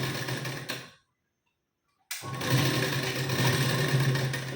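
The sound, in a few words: sewing machine stitching a blouse seam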